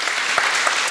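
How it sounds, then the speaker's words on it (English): Brief burst of applause for a live music group, a dense patter of clapping from a small audience heard alone for under a second. "Let's give them a round of applause."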